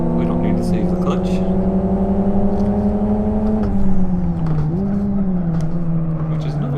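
A race car engine in a racing video game roars steadily near and loud, flat-shifting off the start so the pitch climbs and drops in quick steps, with a voice talking over it.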